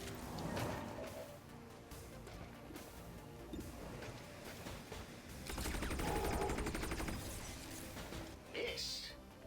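Gunfire in the XCOM 2 Long War of the Chosen game, where a shotgun blast goes off amid a dense, busy run of repeated shots and crashing impacts, loud and close, with game music and voices layered underneath.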